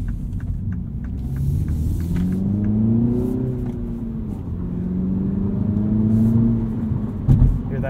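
A 2-liter turbocharged engine in a 2022 Mini Cooper S with a manual transmission revs up and down with a smooth, rising and falling drone, then settles into a steady hum over a low rumble.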